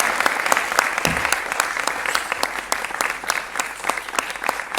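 Studio audience applauding to welcome a guest on a Hindi TV debate show, a dense, steady wash of clapping with sharper individual claps standing out, loud and close throughout.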